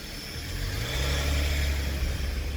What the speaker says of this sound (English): Hardly any clacking sounds or anything like that. Just your typical diesel noises.